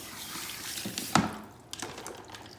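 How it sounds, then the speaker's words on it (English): Water runs faintly from a tap while hair is rinsed during a wash for a haircut on thin hair, with a short splash midway and soft trickling around it. "So then I'm going to rinse this."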